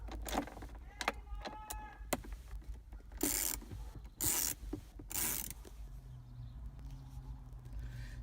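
A ratchet removes 7mm bolts from the center console of a first-generation Chevrolet Volt, giving several short, close bursts of rapid clicking between quieter handling noises.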